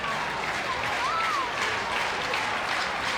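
A college baseball stadium crowd at an NCAA regional game cheering and applauding, a loud, sustained wash of clapping and shouting with a faint whistle-like voice rising briefly in the middle.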